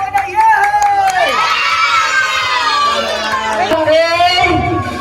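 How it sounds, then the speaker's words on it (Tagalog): A crowd of children at a birthday party clap and shout "yay" together in a loud, sustained burst of cheering lasting several seconds. "palakpak tayo yung may kasama sigawan na yay!"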